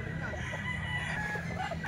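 A Hatch Gray gamecock crows close by, a strong drawn-out cock-a-doodle-doo lasting nearly two seconds over a steady low rumble, with a slight trailing cluck.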